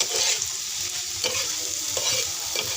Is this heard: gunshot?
no